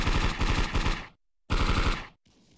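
Rapid automatic gunfire from a VR shooting game, two loud sustained bursts of about a second each separated by a short silence, followed by a faint tail.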